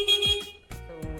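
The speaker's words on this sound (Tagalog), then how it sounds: "So, busina mo, busina." A short electric scooter horn beeps twice in quick succession, thin and buzzy, close by and fairly quiet.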